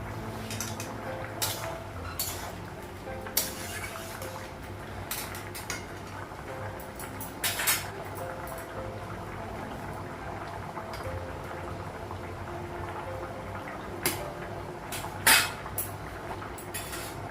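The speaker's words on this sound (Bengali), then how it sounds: "টমেটো দেবো ঢাকনাটা উঠাবো" A vegetable curry with tomato cooks in a pan on a home stove. A steady low bubbling hiss runs throughout, broken by scattered light clinks of the lid and utensils.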